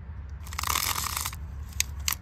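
Antique tape measure pulled out with a ratcheting mechanism: a close burst of dense, rapid metallic clicking that lasts about a second, followed by a few sharp isolated clicks.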